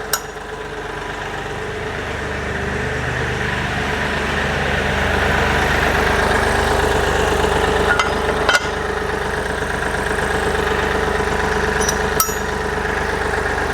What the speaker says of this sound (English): Put her back in park, neutral so the tractor doesn't shut off on us.